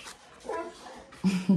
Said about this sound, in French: ça c'est mon chien